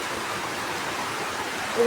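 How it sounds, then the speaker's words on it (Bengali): Rain falling outside, a soft continuous hiss of steady rainfall heard at moderate distance, unbroken throughout. "তাই এত সুন্দর বৃষ্টি যেতেছে"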